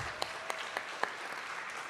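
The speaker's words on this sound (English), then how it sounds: "One more round of applause for all the students in the room." Audience at a school district board meeting applauds the students in the room, a steady wash of clapping from a modest crowd with a few sharper claps standing out.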